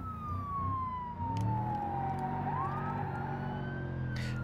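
Police car siren in the BeamNG driving game, a loud wailing tone sweeping down and back up over a steady engine drone, with brief clatters from the car.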